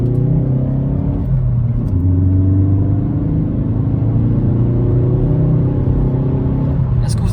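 Diesel Golf GTD accelerating hard from standstill in a 0-100 km/h run, a steady loud engine drone and low rumble with artificial engine sound piped through the car's audio system, continuous throughout.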